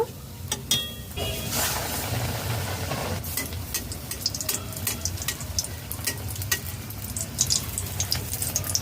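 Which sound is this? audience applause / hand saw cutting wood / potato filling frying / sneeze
potato filling frying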